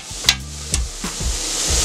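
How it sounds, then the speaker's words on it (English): Diced ham being tossed and stirred in a steel pan while frying for house fried rice, with a few sharp metallic clanks from the spatula over a constant soft sizzle. "Toss my ham around just a little bit."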